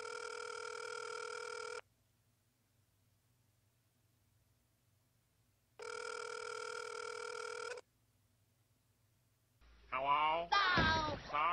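A telephone rings through a handset while calling the Krusty Krab, two long electronic ring bursts separated by silence, followed by a voice answering on the line.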